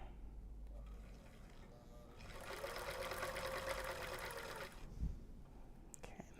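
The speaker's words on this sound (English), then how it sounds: "we're going to actually serge over, cut that off" A serger overlock sewing machine with its blade down trims and stitches fabric in one steady, whirring run of about two seconds, with a clunk as it stops and quiet background sound around it.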